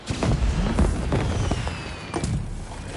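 Fireworks bursting in the Spider-Man 2 video game on PS5, a series of dull booms and cracks scattered across a few seconds, fairly loud over a busy game background with a whistling streak.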